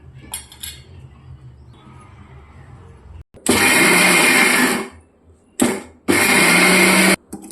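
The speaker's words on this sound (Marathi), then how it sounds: "चला आपण ह्याला बारीक करून घेऊ" A mixer grinder whirs loudly while grinding chivda masala chutney, in two strong bursts, a long one and then a shorter one after a brief stop, following quieter clinks of a jar being handled.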